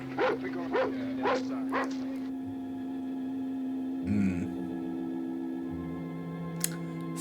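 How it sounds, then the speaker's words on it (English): Dogs bark and whimper in the 1968 film Night of the Living Dead: a quick run of sharp, high yelps at the start, another brief whine midway, then a low hum beneath an otherwise quiet soundtrack. "Dogs wigging out."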